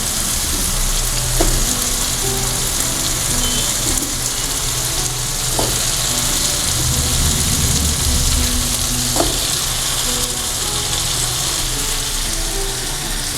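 Chopped chayote sautéing with tomato paste in a pan for a masala gravy, giving a constant close sizzle with occasional stirring scrapes and taps throughout, no talking.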